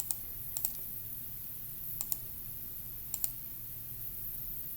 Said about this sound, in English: pick up my calculator and start typing